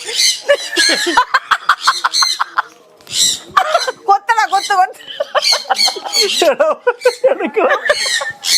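A small bird squawks and chirps sharply in rapid bursts close by, shrill calls repeating throughout with brief pauses.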